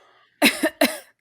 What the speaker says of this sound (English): I didn't really have to cough.